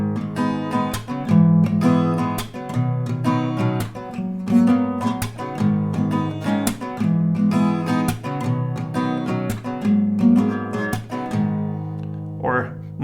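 Acoustic guitar strums chords with melody notes woven into the strumming, a steady close rhythmic pattern running throughout before a brief slide at the end.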